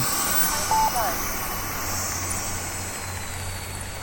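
An Xfly F-22 twin 40 mm EDF RC jet flies at a distance during a speed run, its thin ducted-fan whine sitting over a steady low hum.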